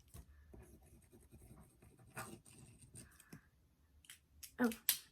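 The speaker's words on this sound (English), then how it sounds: "let me write fave, and then whole" A pen scratches across paper in short, close strokes, quiet and uneven, rising to a few louder scrapes near the end.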